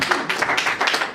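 Brief scattered clapping from a small audience at a stand-up comedy gig, a short patter of hand claps with no voices over it.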